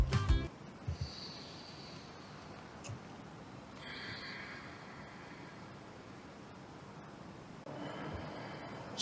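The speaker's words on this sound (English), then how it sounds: "just give it a good sniff" A person takes a strong, snorting sniff of an Arby's Second Choice Sandwich made on white bread and baked in the oven. It is one short, close breath burst at the start, followed by a quiet, steady hiss.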